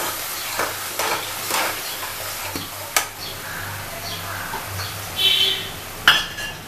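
A spoon or spatula stirs and mixes ingredients in a pan, soft scraping strokes with a few sharper knocks against the metal over a low background hiss, close and moderate in level.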